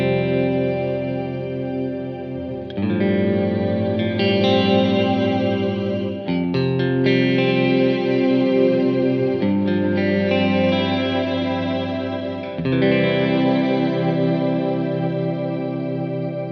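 Electric guitar played through a Wampler Catacombs reverb and delay pedal, sustained chords and notes washed in echoing repeats and lush reverb tails, changing every few seconds, loud and continuous with no talking.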